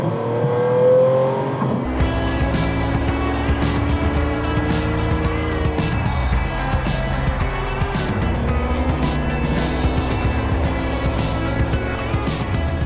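A 1993 Mercedes-Benz 600 SL AMG engine idles and then revs repeatedly, its loud droning pitch rising and falling close by, with no talking.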